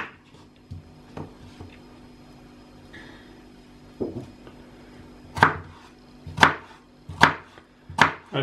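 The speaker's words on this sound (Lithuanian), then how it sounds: "Pjaustom svogūnus." A knife chops onions on a cutting board for a meat and mushroom roast. A few soft cuts are followed by several loud, sharp, evenly spaced chops near the end.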